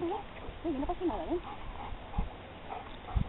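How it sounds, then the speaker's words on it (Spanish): A small female dog whimpers in short high whines, close by, amid faint background voices and soft bumps. "¡Ay, qué perrita tan guapa!"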